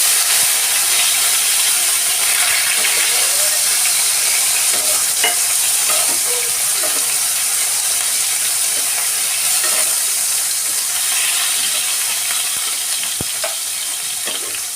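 Chopped tomatoes hitting hot oil in a pan for a potol and mustard fish curry give a loud, continuous hiss and sizzle, with occasional faint scrapes of stirring beneath and no voices.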